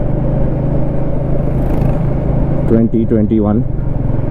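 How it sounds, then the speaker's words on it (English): A Royal Enfield Meteor 350 single-cylinder motorcycle engine runs steadily with a bubbly, throbbing low rumble while riding, loud and continuous, with someone speaking over it near the end. "The engine feels very bubbly, but it's not a big deal."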